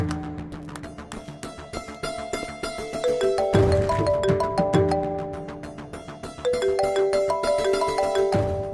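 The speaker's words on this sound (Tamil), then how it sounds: "அபி ஃபோன் பண்றான்." A mobile phone ringtone plays at home in a Tamil TV serial, a bright, repeating electronic melody of clear tones that rings loudly and steadily, swelling as the phrase restarts.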